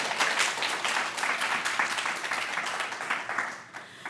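Warm, continuous applause from an audience at a Free Library poetry reading marking a 30th anniversary season opener. The clapping is dense and sustained at an even level, fading slightly near the end.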